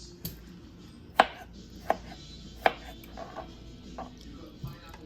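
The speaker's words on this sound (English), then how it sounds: "Slice these tomatoes down." A knife slicing through tomatoes onto a cutting board, giving about eight sharp, separate chops at uneven intervals, close and clear.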